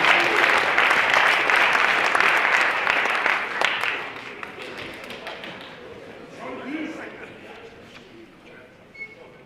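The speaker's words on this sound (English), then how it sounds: "Give it up. Clap for him." Football players are applauded at a varsity and JV banquet, with loud dense clapping from a crowd that gradually thins into scattered claps and murmuring voices.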